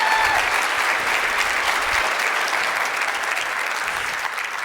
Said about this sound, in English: so they get extra round of applause